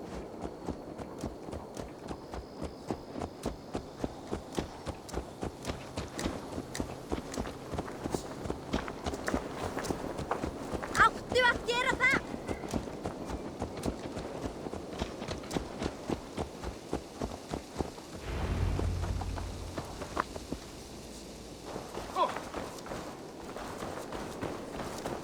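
Horse hooves from Assassin's Creed Valhalla clop in a steady, rapid rhythm that carries on through the whole stretch, fairly close and at an even loudness, with a soft rumbling bed of game ambience beneath them.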